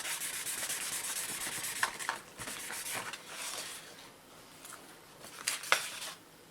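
Cast silver being hand-sanded with 3000-grit paper, a close, soft, steady rubbing scratch with small uneven strokes and brief louder scrapes, quiet overall and without talk.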